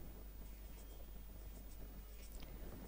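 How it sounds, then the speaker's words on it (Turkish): A pen writes numbers by hand for a fourth-grade math lesson, giving short, faint scratching strokes that stop and start over quiet room hiss. "Hemen yazıyorum."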